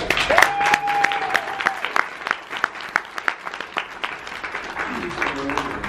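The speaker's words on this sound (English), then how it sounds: "let's have a big round of applause for my colleagues, Paul and Mike" Conference attendees at the Internet Librarian 2016 evening session applaud colleagues, scattered claps thinning out over several seconds while someone talks and a brief whoop rises.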